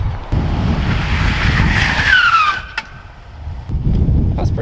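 Subaru STI Type RA with a Magnaflow catback exhaust, loud engine roar rising with a sweeping rev that peaks then drops, followed by a brief lull and another surge, with wind buffeting throughout.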